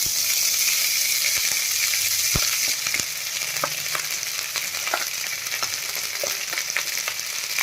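Boiled rice stirred and mixed in a frying pan while making lemon rice, with soft sizzling and a scraping spoon clinking now and then against the pan, fairly close and without any talk.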